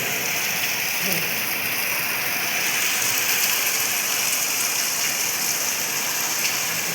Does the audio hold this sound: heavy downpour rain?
yes